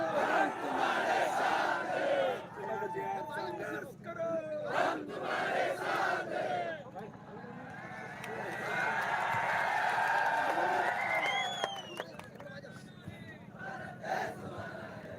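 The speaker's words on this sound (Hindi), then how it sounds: "जोरदार तालियों के साथ स्वागत करें" A crowd at a political rally cheers and shouts loudly to welcome an MP, with waves of voices and whoops rising and falling and some clapping, sustained across the whole stretch.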